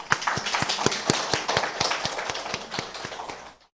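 Applause from a church congregation during a Sunday morning service, welcoming a visiting woman: dense, steady clapping from many hands that fills the room and runs for several seconds before cutting off.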